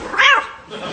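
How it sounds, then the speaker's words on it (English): Black cat yowling after being kicked in an audio comedy: one short, loud, close caterwaul that rises and falls, followed by faint room noise. "Now, I'm going to kick the unlucky black cat."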